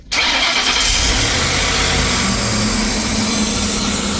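A car engine cold-starts right at the outset after a spark plug and coil replacement, with a slight misfire from a broken part, then roars loudly and continuously at a fast idle, close up.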